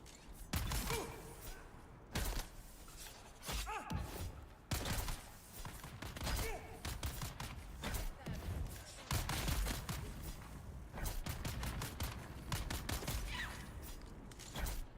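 Enemy gunfire in the video game Dune Awakening out in the Deep Desert, rapid bursts and sharp repeated shots cracking throughout at fairly low level, mixed with mechanical clatter and no speech.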